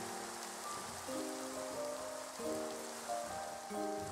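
Rain falls in a video game as a steady patter across the surface, heard alone without voices, while sustained tonal notes step up and down in the background music.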